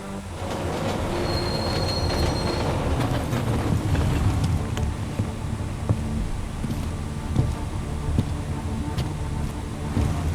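A video-game train ride in Deus Ex Mankind Divided, with a continuous rumble of railcars and wheels squealing along the track, steady and enveloping throughout.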